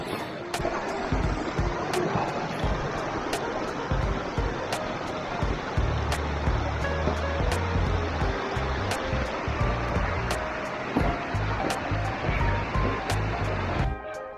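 Streams flow along a road and beside neighbouring houses, a steady rush of running water with regular sharp taps and a low rumble joining partway through.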